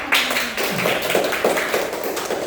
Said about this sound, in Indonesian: kita beri tepuk tangan dulu kepada Akmal